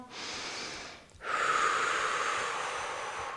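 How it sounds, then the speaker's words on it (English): Heavy breathing after a home full-body workout exercise: one short exhale, a brief pause, then a long, loud, breathy inhale-gasp close to the microphone. "even I'm out of breath right now"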